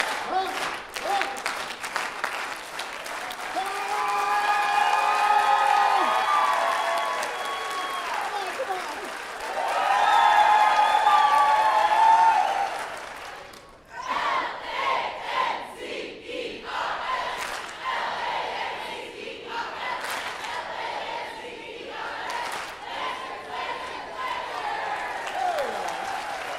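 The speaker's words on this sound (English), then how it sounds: "So if you all, I don't know if the younger folk know it that well, but softball team will carry us. All right, so everyone stand up. Come on. Everyone clap." An audience at a high school senior athletic awards night stands, claps and cheers for the softball team. Crowd noise rises and falls in swells with bursts of cheering and yelling, and voices carry through it.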